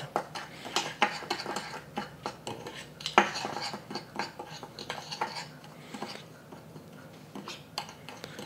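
Singapore noodle sauce stirred in a pan with a utensil, a run of quick close scraping taps and clinks against the metal in an irregular rhythm, no talking.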